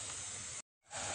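One large finely chopped onion sautés in six to seven tablespoons of olive oil with a loud, close, steady sizzle that cuts to brief silence midway, then returns.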